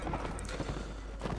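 Galloping horse in the Mount & Blade Warband video game, quick clip-clop hoofbeats with a brief whinny amid loud battle noise.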